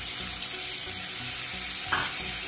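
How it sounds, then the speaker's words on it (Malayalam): Onions with a pinch of salt fry in a pan while being stirred, a loud continuous sizzle with scraping stir strokes and a brief clatter near the end, no voices. "അല്പം ഉപ്പ് ചേർത്ത് നന്നായി ഇളക്കിയാൽ അത് പെട്ടെന്ന് വയന്ത് കിട്ടുന്നതായിരിക്കും."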